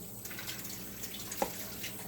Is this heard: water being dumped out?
yes